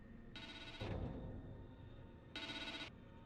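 A phone rings in The Evil Within 2, two bright electronic ringing bursts close and clear with a quiet pause between them, no voices.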